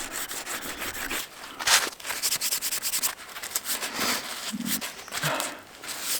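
A knife is drawn across the fine-grain side of a sharpening stone in an outdoor bushcraft setting, making repeated rough rubbing and scraping strokes at a fairly even rhythm, close and moderately loud.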